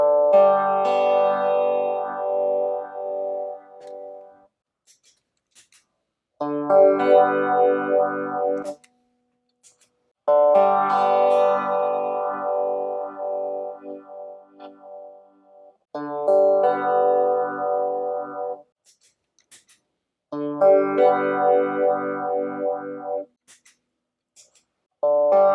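Guitar phrases pass through a vintage-style phaser pedal at shallow depth, so the sweep is subtle. The playing comes in bursts of several seconds, separated by silent pauses, with no talk.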